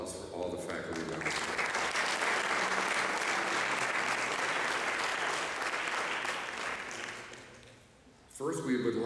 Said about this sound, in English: I'd like a round of applause for all the faculty members.